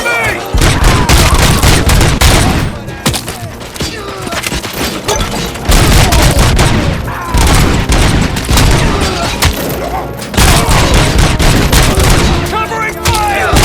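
Dense gunfire rattles through a firefight in the video game RoboCop: Rogue City on PS5, loud sustained bursts and booming shots in waves with short lulls, with voices shouting over the battle.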